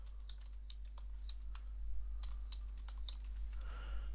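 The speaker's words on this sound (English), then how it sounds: "Give the password, hit enter." Quick, light clicks of keys being typed on a computer keyboard while entering a password, about a dozen irregular taps close by in a quiet room with a faint background hum.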